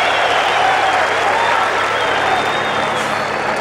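Tennis crowd at a Key Biscayne 2002 semifinal between Agassi and Rios, applauding and cheering loudly after a point, a dense continuous roar of clapping throughout.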